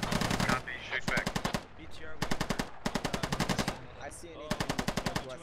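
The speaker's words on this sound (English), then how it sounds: "They're shooting at you." Rapid machine gun bursts in a military shooter game, several loud, close rattling volleys separated by short pauses, with faint background chatter.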